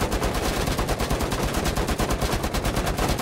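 Rapid gunfire from several people shooting at once: dense, loud, fast bursts of shots that repeat without pause.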